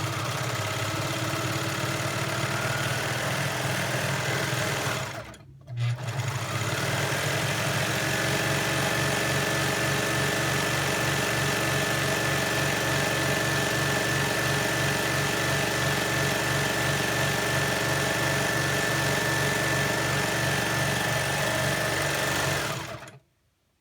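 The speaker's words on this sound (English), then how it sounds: "right now I'm going to go ahead and serge my edges" Serger sewing machine running fast along fabric edges, a steady rapid mechanical chatter that stops briefly around five seconds, restarts and runs continuously before cutting off at the end.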